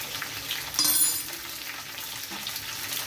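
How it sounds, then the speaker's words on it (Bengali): Green banana and papaya pieces fry in a pan with a steady close hiss of oil, and the sizzle briefly swells as the vegetables are stirred. No one speaks. "সব সবজিগুলো দিয়ে আমি একটু ভালোভাবে নেড়ে ভেজে নেব"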